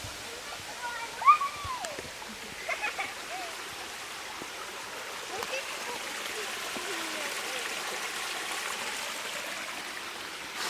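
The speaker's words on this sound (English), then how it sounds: "there's a small stream up here actually, look." Small stream flowing near a waterfall outside Sigulda, Latvia, a steady broadband wash of running water holding even throughout, with a few brief splashes and faint talk early on.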